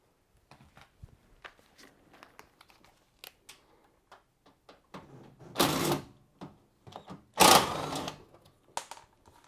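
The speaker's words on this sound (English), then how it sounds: "So these are 6mm screws that you need to use your socket to take off." A socket wrench loosens 6mm screws on a Bosch washing machine front panel, making a series of quick ratcheting clicks with two louder rattling bursts, close and without talk.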